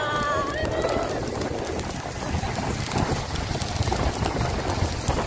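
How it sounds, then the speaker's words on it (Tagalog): Steady rain hisses and patters at Sabang Falls in Cavinti, Laguna, with faint bird calls briefly at the start and gusty noise underneath. "Ay, umuulan siya."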